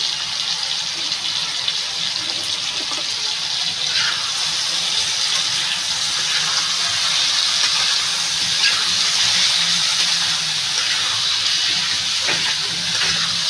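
Katla fish curry with potatoes sautés in a pan with coriander, cumin, turmeric and chili powder, giving a loud, steady, continuous sizzling hiss close up, with no talking.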